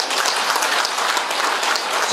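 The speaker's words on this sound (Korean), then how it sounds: "두 관장님한테 박수 한번 주십시오." Audience applause at an anniversary celebration and year-end evening for a veterans' association branch, a dense, steady crowd clapping that fills the whole stretch with no voices over it.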